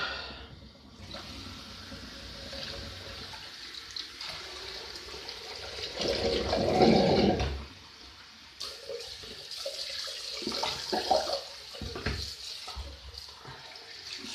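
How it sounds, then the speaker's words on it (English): Tap water runs steadily into a bathroom sink as it is rinsed after a wet shave, a continuous splashing rush that swells and loudens midway, then settles back to a softer flow. "rinse the sink."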